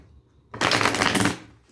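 A deck of tarot cards riffled in one close, loud burst lasting under a second, a dense papery flutter that starts abruptly and fades out quickly, with no voice over it.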